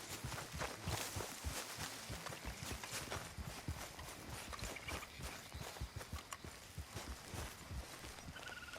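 Horse hooves clip-clop in a steady rhythmic walk in the video game Red Dead Redemption 2, sitting in a dense bed of outdoor ambience and rustling noise.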